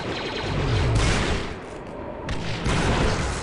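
Dense blaster gunfire and explosions in the video game Star Wars Republic Commando, a loud continuous barrage of overlapping shots with a brief dip midway.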